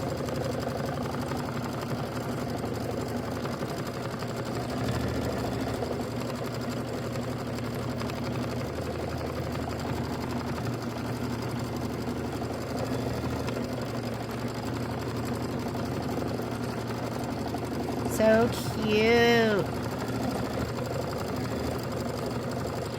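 A sewing machine runs steadily while quilting a Christmas wall gallery, its even mechanical hum close and constant, with a brief voice near the end.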